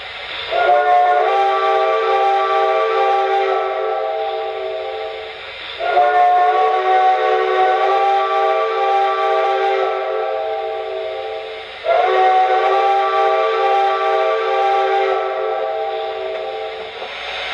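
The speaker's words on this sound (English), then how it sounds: "Now let's try the quilling whistle." A quilled steam whistle on an MTH Santa Fe Blue Goose model train set sounds three long, loud chord blasts, each swelling and tapering, alone with no talk.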